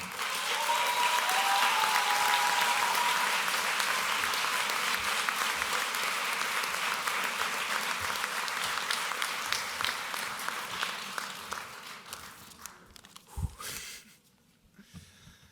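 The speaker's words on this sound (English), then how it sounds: "please, let's all give a round of applause to Marco Auletta." Audience applause at a medicine and surgery graduation ceremony, a loud sustained crowd clapping that carries on for many seconds before thinning out and fading near the end.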